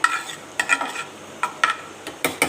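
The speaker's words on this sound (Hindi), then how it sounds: "ये अब मैं प्याज को करूँगी ब्राउन करके मैं आपको दिखाती हूँ।" Chopped onion frying in about three tablespoons of oil in a pan, a constant sizzle punctuated by repeated rhythmic stirring scrapes and spatula knocks, close and clear with no talking.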